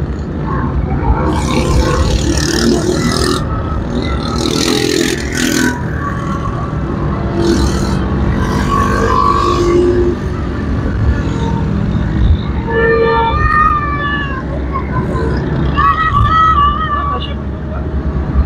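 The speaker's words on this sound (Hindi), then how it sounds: "इतना शोर है बाजों का हद से ज्यादा।" Busy street traffic in Karachi during an Independence Day celebration: constant engine rumble with passing vehicles, scattered blaring horn and toy-trumpet tones, and people talking throughout amid the crowd noise.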